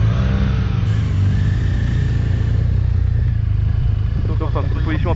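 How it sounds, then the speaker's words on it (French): A BMW R1250RS flat-twin motorcycle engine revs and pulls away loudly and close, a steady throaty drone under wind rush, with a voice briefly audible near the end. "Flat twin."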